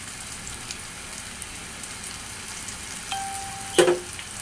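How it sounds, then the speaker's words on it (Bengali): Onion paste hits mustard oil already frying with chopped garlic and cumin, giving a steady, hissing sizzle, then a short tonal squeak and a sharp clatter near the end. "এখন আমি দিয়ে দিব হচ্ছে পেঁয়াজ বাটা"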